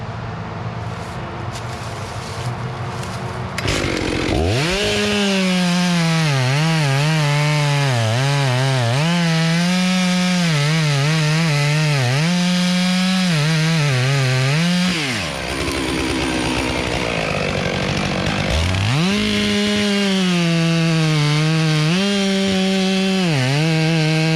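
A chainsaw cuts through a hollow tree during logging, the engine revving high and bogging as it bites into the wood, loud and close, with a brief drop in pitch midway before surging again.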